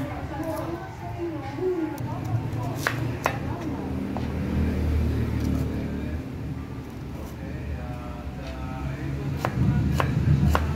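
A knife chops onions on a board for a Filipino cassava-leaf dish, sharp taps recurring every second or so at close range under a person speaking.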